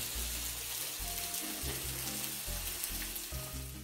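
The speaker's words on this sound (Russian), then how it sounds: "Мясо жарим для салата, для Цезаря." Meat for a Caesar salad sizzles steadily in a hot pan, a dense crackling hiss with a low bubbling undertone and no voices.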